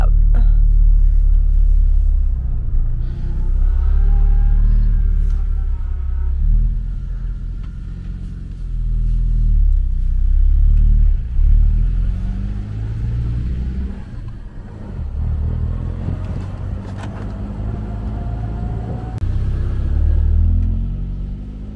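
A vehicle on Bridgestone AT002 Dueler all-terrain tyres pulls away and drives over rough ground at an unfenced camp in Botswana's Kgalagadi, its engine rumbling loud and close with bumps and rattles throughout, with some faint talk.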